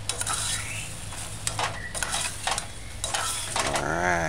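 A spoon stirs dried herbs and salt into a jerk chicken brown stew in a pot on a medium-low stove, scraping and clinking in several strokes over a soft steady sizzle, close by.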